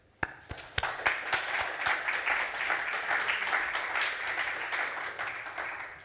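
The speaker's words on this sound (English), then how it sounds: "please join me in giving him a warm round of applause" An audience at a lecture on music in Western culture breaks into applause, starting with a few sharp claps and building into steady, moderately loud clapping that holds for several seconds.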